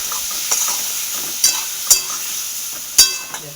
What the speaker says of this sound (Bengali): এই যে খুন্তি নিয়ে এলাম, এটাকে একটু নেড়ে দিই